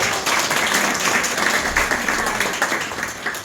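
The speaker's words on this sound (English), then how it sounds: "Please give her a big round of applause." At a community Diwali celebration, a crowd claps in a dense, steady round of applause that stays at an even level throughout.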